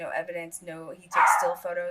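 A pet dog barks once, loud and close, in a short burst between stretches of someone talking indoors.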